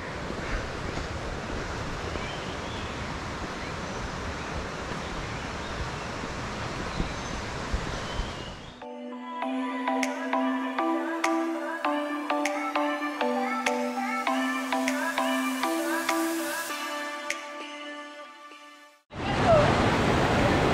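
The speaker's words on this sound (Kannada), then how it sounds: "ಯಾವ ದೊಡ್ಡದು ವಾಟರ್ ಫಾಲ್ ಇದೆ ಅನಿಸುತ್ತೆ. ಸೌಂಡ್ ಮಾತ್ರ ಹೆವಿ ಜೋರಾಗಿ ಬರ್ತೈತೆ ಕೆಳಗಡೆ." A large waterfall roars below a forest trail near the source of the Netravati River, a steady broadband rush that drops out while music plays through the middle and returns loudly at the end.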